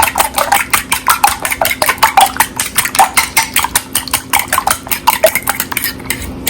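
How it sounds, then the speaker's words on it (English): A utensil mixes ingredients with black pepper and Italian seasoning in a bowl, making a steady run of loud, rhythmic scraping clinks against the bowl, close by and with no talking. "We're just going to mix it all together."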